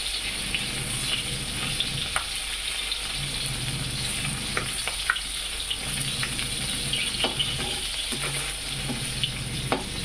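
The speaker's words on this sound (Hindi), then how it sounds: "वो तो अच्छे से फ्राई हो रहा है" Fish frying in a pan gives a steady, close sizzle and crackle with occasional sharp pops and spatters, continuing without pause and with no talking.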